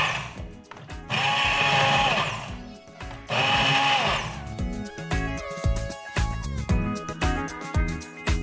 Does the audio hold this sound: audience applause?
no